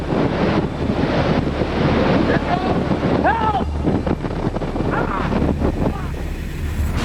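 Roaring tornado winds in central Oklahoma during the 1999 Bridge Creek–Moore tornado, a loud, unbroken buffeting roar that batters the microphone while a person shouts out in distress.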